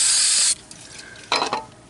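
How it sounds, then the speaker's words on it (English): Two bursts of 3M Super 77 spray adhesive hissing from an aerosol can up close, a long loud spray followed by a shorter one after a brief pause, used in a steering repair on a 1931 rat rod. "take some of this 3M Super 77 spray glue"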